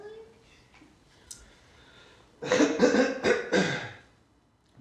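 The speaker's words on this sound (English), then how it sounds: "I'll just clear my throat." After a quiet stretch, someone clears their throat with a few rough, raspy bursts close by, then it goes quiet again.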